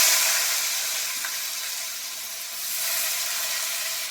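Chopped onions hit hot oil that already holds bay leaf, dried chilli and panch phoron for a prawn curry, giving a loud, continuous, close-up sizzle that swells slightly toward the end.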